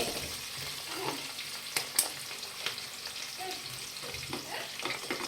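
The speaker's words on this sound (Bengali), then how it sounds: "এগুলো আমি দিয়ে দিচ্ছি। ভালো করে নাড়াচাড়া করে নেব।" Chopped onions being stirred while frying in a pan for a chicken pasta dish, a quiet sizzle broken by irregular spatula scrapes and clinks against the pan, close and without talk.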